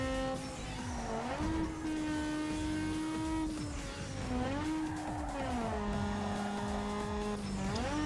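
A modded car engine in Need for Speed Underground 2 revs loudly and steadily, pitch rising and falling through gear shifts with tire squeal, continuous with no talk over it.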